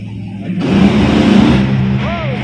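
Brittany Force's NHRA drag racing car at Richmond, a loud broadband engine roar that swells in after a brief quieter start and holds steady, with crowd and track noise around it.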